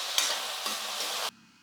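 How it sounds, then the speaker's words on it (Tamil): Onions and tomatoes sizzle and hiss in a hot pan as they are stirred in a few scraping sweeps, then the sound drops away abruptly. "தக்காளி வெங்காயம் ஒன்று சேர்கிற அளவுக்கு நல்லா கிரேவி மாதிரி நல்லா வதங்கி வரணும்."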